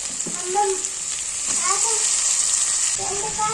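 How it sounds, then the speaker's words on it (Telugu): Mutton dropped into a hot pan for curry, frying with a loud, bright continuous sizzle and some stirring, while someone talks over it. "ఒకసారి కలుపుకున్నాక మటన్ వేసుకుంటున్నాను"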